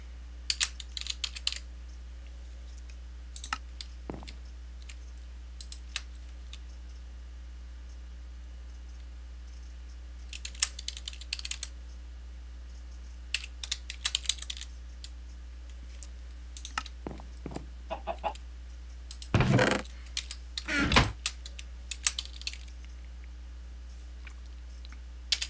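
Scattered bursts of typing on a computer keyboard during a TerraFirmaCraft play session, quick clusters of soft clicks separated by pauses, with a few louder knocks near the end over a low steady hum.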